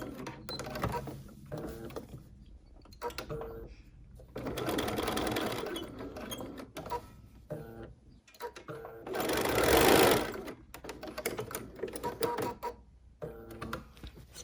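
A sewing machine stitching quilting lines on a fabric pumpkin trivet runs in short bursts of rapid mechanical clatter, pausing between runs, with one louder, longer burst near the middle.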